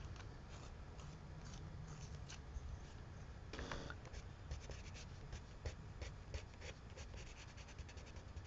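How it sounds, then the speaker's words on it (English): A colored pencil being sharpened up close makes a quiet, continuous scratchy grinding and rasping, with small irregular clicks and scrapes, faint and steady throughout. "Let me sharpen again."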